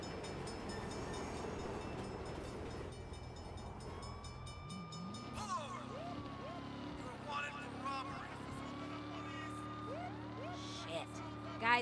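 A train rolls past in the Saints Row video game during a police chase, its steady rumble and screeching whine running under in-game voices and engine noise, with rising tonal squeals toward the end.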